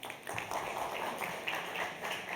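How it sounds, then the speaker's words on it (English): An audience at a panel session on scaling startups gives a round of applause, dense and even, moderately distant and fairly quiet throughout. "Give them a nice warm round of applause."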